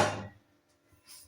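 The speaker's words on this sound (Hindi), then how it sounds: "ढक्कन हटाते हैं।" A lid is lifted off a cooking pot of chicken biryani rice left to steam, giving one close, brief clunk followed by near silence and a faint soft rustle.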